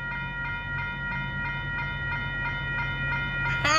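A freight train rolls past a street crossing in Rochelle, Illinois, with steady rhythmic wheel clatter and a rumbling drone, fairly near and continuous, and a brief voice at the end.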